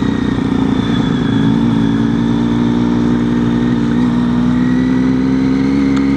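A Triumph Street Triple and a Ducati 959 Panigale run on a Saturday morning in Bath, a loud, close, continuous engine drone with a steady note that rises slightly, heard alone without talk.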